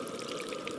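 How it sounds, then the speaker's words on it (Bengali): Leftover hot oil from frying chicken chaap is poured into a kadai, a brief soft stream of liquid without any voices. "চিকেন চাপের চিকেন ভাজার তেলটাই দিয়ে দেবো কড়াতে।"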